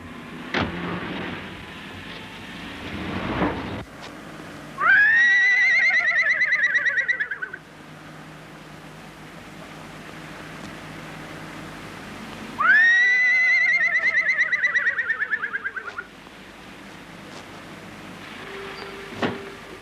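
A man imitates a horse's whinny on a film set where a colt was being worked, giving two loud, wavering neighing calls a few seconds apart, each falling in pitch and fluttering toward the end, over a low steady background hum.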